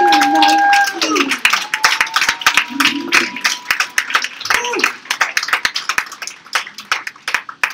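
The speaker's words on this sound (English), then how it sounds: "Keep your applause going." A pageant audience claps and cheers after the crowning of Miss Wheelchair California 2019, scattered hand claps building into dense applause under an announcer's voice.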